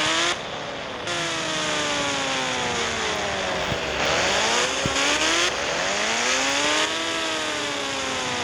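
A fast car in a racing video game revs and shifts up and down, its engine pitch sweeping repeatedly, loud and continuous, with no talk.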